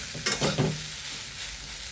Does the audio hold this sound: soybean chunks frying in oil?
yes